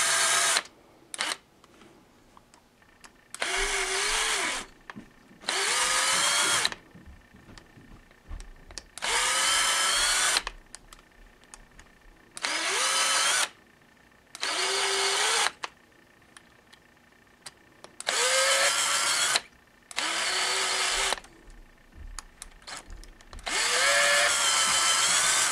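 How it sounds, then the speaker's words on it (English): A power screwdriver drives screws back into a humbucker guitar pickup in repeated short whirring bursts, each lasting a second or two and separated by quiet pauses, close to the microphone. "And then the last step we have left here now is to put the screws back in."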